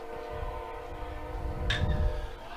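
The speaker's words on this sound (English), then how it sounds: "Just wouldn't be baseball here at Chapin if we didn't have a train in the background." A train rumbles steadily behind the Chapin baseball field, its low horn-like drone continuous in the background, with a brief sharp noise partway through.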